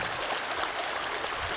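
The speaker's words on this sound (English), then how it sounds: "So you can see the water that's running through." Water runs steadily through a pond channel, hundreds of gallons an hour, a continuous close rushing wash with no pauses and no voices.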